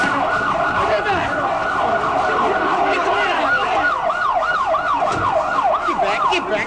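An ambulance siren wails in repeated rising and falling sweeps at the 1981 Reagan assassination attempt scene, growing more prominent over a crowd and traffic noise.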